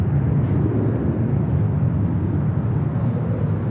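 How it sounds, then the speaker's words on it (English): An Air Premia 787-9 Dreamliner arriving at LAX from Seoul produces a loud, steady, broadband jet roar that stays constant and close throughout, with no voices over it. "Next arrival is Air Premia Flight 103, coming in from Seoul, 787-9 Dreamliner."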